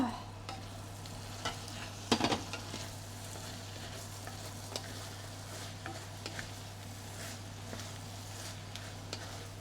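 Onions for French onion soup fry and are stirred in a pan, giving a quiet, steady sizzle broken by a brief burst of utensil scraping and a few light taps.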